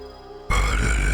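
A deep, raspy grunted voice held on one breath, imitating a creature-like sound, starts abruptly halfway through, loud and rough, after a quieter lead-in.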